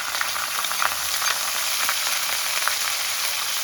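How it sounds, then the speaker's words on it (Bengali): Ground ginger, cumin paste and tomato paste sautéing in a pan, a steady loud hiss of frying with light stirring scrapes on top and no voices. "এটা দিয়ে বেশ ভালো করে একটু কষিয়ে নেব"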